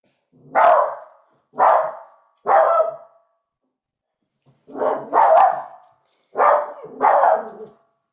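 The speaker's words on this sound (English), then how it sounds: "Let's get this barking dog out of here." A dog barks loudly and close by, with seven sharp barks: three evenly spaced, a pause, then two quick pairs.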